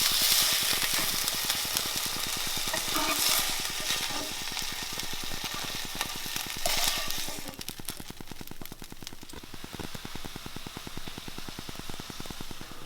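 Meat patties with herbs fry in a pan with a dense, crackling sizzle that runs close and steady throughout, easing slightly toward the end.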